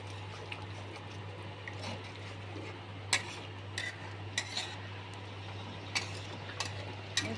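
A spoon stirring crushed roasted kasuri methi into an onion curry in a pan gives faint scattered clinks and scrapes. A steady low hum runs underneath, and no one speaks.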